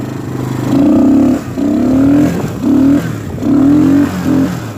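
An engine revs in repeated surges while the vehicle drifts through snow, four or five rising bursts with brief dips between, loud and close.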